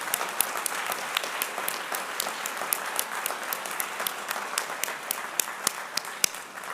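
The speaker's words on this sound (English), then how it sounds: "We need to give every single veteran in this place a big round of applause." Crowd at a disabilities summit giving veterans a round of applause, a dense, sustained wash of clapping from many hands with sharper nearby claps standing out, no talk over it.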